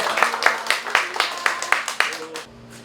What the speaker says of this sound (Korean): 우선 큰 박수로 한번.